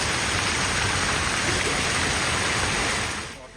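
Heavy pre-monsoon rain pours down steadily in Kochi city, a dense, loud hiss of falling water that holds constant and fades slightly at the end.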